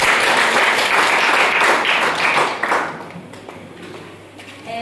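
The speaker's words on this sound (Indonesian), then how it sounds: "sekali lagi kita berikan tepuk tangan yang meriah" Classroom applause from students during a lesson, a dense burst of many hands clapping loudly at first, then thinning out and fading toward the end with a few scattered claps.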